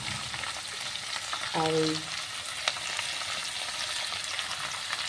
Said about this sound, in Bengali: এখানে চিচিঙ্গে ভাজাটা করছি, সর্ষের তেল গরম করে কালো জিরে দিয়ে একটু কাঁচা লঙ্কা আর পেঁয়াজ কুচি দিয়ে